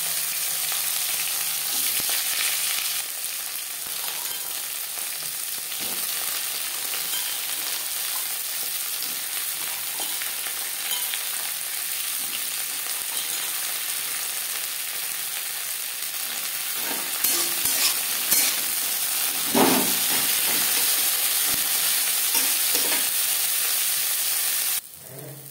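Bitter gourd frying in mustard oil with whole cumin and dried chillies, a loud steady sizzle close up that lasts throughout, with occasional stirring scrapes and a brief drop near the end.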